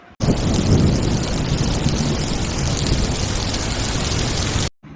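A loud, sustained rumble of thunder blends with a heavy, steady downpour of rain in a storm over a forest, filling the sound evenly from start to finish.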